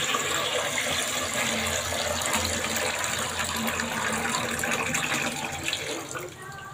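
Steady gushing water pours continuously from a balloon into a bucket, a close, even splashing that fades slightly at the end.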